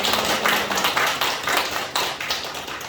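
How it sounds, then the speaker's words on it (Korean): Church congregation applauding the choir after a Christmas service, a dense, steady burst of many hands clapping close by for about three seconds. "한 해 동안 수고하신 우리 찬양대회에 격려의 박수"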